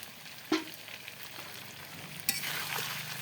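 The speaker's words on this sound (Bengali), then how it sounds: "তেল ছেড়ে দিয়েছে, সুন্দর করে কষাইয়ে নিলাম মাংসটা।" Goat meat stirred and fried in oil in a pot over a clay stove in a village kitchen: a soft, low sizzle with a couple of sharper clinks of the spoon against the pot, nearby and quiet.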